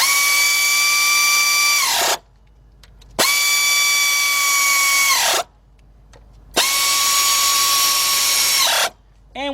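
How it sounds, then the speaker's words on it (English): An air ratchet spins pulley bolts tight during a water pump replacement on a Ford Explorer, Ranger or related truck, running in three loud sustained whirring bursts of about two seconds each, separated by short silent pauses. "being that I'm using an air ratchet, it's gonna tighten these up, and I can use very little force to hold this pulley in place"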